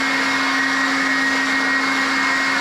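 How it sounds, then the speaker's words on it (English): A Ryobi 18V HP brushless cordless leaf blower runs close by in a steady, loud, unbroken whoosh with a constant motor whine, heard alone without talking. "be able to just get it off the hook in the garage and blow the grass away."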